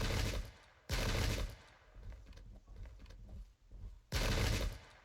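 Massed rifle volleys crackle in the historical strategy game Pike and Shot, set at the Battle of Omdurman in 1898. Two loud, dense bursts of fire frame the clip, with quieter scattered shots and rumble between them.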